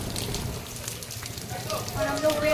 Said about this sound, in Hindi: यहाँ पे बारिश काफ़ी ज़्यादा पड़ रहा है